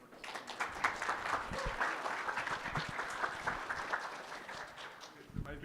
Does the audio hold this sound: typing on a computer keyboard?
no